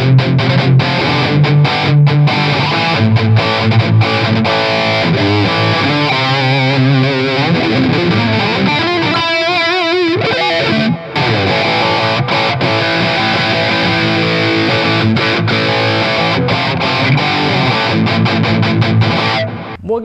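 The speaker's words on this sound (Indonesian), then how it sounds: "Kita coba dulu dengan distorsinya, distorsi." An electric guitar, Fender or Gibson, played through a distortion effect: sustained, heavily saturated chords and bending lead notes ring loud and continuous for about twenty seconds, with no talking.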